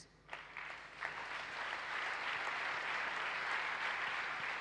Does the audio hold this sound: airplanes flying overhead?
no